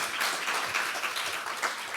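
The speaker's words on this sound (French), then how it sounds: "on peut les applaudir" Audience applause at a Deeptech Tour 2022 entrepreneurship conference in Rennes, a dense, steady wash of many hands clapping throughout, fairly close and loud, with no speech on top.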